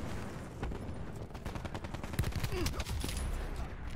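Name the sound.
gunshots in video game Call of Duty Black Ops 4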